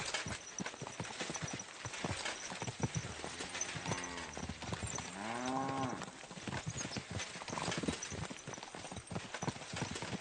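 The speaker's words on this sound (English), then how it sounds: "Watch out for that horse." Horse hooves clip-clop steadily in the medieval game Kingdom Come: Deliverance II, a continuous near rhythm of hoofbeats with a couple of drawn-out animal calls rising midway, loud over ambient outdoor noise.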